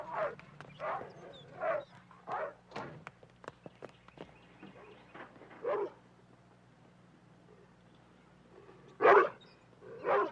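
Doberman dogs bark in sharp, loud bursts through a 1972 film scene, a rapid run of barks at the start, scattered footsteps and thuds in the middle, then a couple of strong barks near the end.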